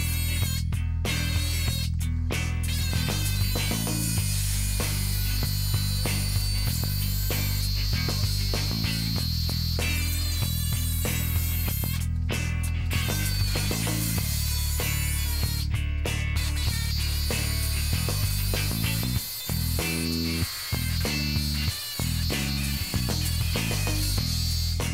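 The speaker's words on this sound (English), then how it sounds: "I'll just carefully jigsaw my way around." A jigsaw cuts a hole in a Toyota Prado 150 body panel for a snorkel install, its loud buzzing motor running nearly continuously with brief pauses and restarts, close up and without talking.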